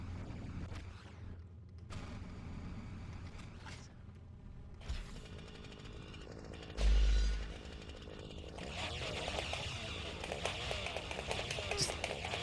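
A chainsaw in the video game Hunter: The Reckoning revs with a harsh grinding whir under steady mechanical game noise and a dense battle din, with a player talking over it.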